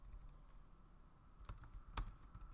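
Code is typed on a computer keyboard in a few quiet, scattered keystrokes, with a couple of sharper clicks standing out near the end against faint background hiss.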